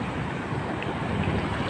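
Big ocean waves around a small boat at sea off Cantilan, a continuous rough wash of water and wind buffeting the microphone, steady and close with no talking.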